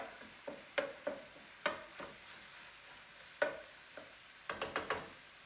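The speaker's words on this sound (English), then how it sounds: "I'm going to dump the ground meat in" Ground meat frying in a pan as a sharp-edged spatula breaks it up, with scattered scraping and tapping strokes over a faint sizzle, close and fairly quiet.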